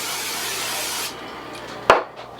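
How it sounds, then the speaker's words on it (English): Non-stick cooking spray hisses in a steady burst for about a second as it is sprayed onto smoker racks. A brief pause follows, then a sharp, close knock or clatter. No one speaks. "I'll put a little cooking spray on here."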